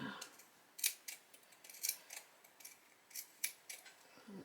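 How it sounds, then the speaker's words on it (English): Scissors snipping around the fabric of a doll's dress, a steady series of short, crisp close-up cuts with small pauses between them. "you're just going to come in and snip, snip, snip all the way"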